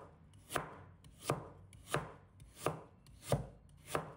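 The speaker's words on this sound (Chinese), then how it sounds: "接下来准备一小段的白萝卜，先把它对半切开，然后把它切成片" A knife slices through a halved white radish (daikon) on a cutting board, six crisp, evenly spaced chops about two-thirds of a second apart, close and clear with no talking.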